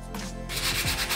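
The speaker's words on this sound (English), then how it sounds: "I spent a few minutes sanding" Hand sanding on a glass piece before hydro dipping with nail polish, a short close rasping rub that grows louder midway, with no voices.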